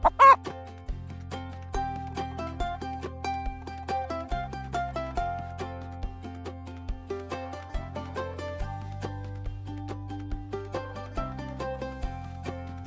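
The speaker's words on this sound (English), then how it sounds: "That's right, I'm a chicken." Farm chicken clucking in short repeated bursts, loud and close, layered over a steady melodic music backing with no talking.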